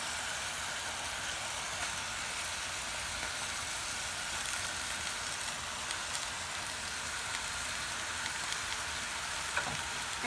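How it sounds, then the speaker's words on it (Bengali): Cooled kheer being stirred into a sandesh mixture sweetened with patali jaggery in a pan, giving a steady, soft hiss and scrape that runs unbroken and even throughout, with no voices. "এখন আমি এই সমস্ত ক্ষীরটাকে এই সন্দেশের ভিতর মিশিয়ে দিচ্ছি।"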